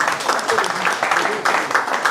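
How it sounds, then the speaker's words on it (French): A crowd at an electoral campaign rally claps in uneven bursts, moderately loud and close, with voices mixed into the applause. "applaudissez"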